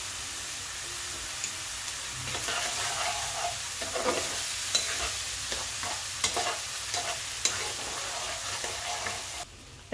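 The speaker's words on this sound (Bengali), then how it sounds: "মশলাটা আমি ভালো করে কষিয়ে নিচ্ছি" Spice paste with sugar and salt being stir-fried in oil for a tilapia curry, a close, steady sizzle broken by repeated scraping and stirring strokes, with no talk.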